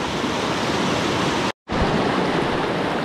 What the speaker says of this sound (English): This is all pretty quick water for the trout that I'm looking for.